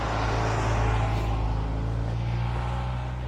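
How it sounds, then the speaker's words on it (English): A mail truck idles and rumbles steadily in the background, a low droning engine hum that stays loud and constant without fading. "how loud that mail truck is in the background of the audio"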